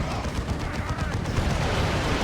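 A Space Marine assault cannon in Dawn of War 2 fires in a dense, rapid burst of gunfire, a continuous loud rattle filling the whole stretch.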